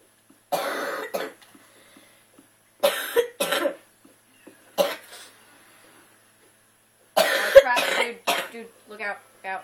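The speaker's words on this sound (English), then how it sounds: "sorry, I was coughing." Several bursts of coughing and throat clearing, loud and close, in separate clusters with short quiet gaps between them.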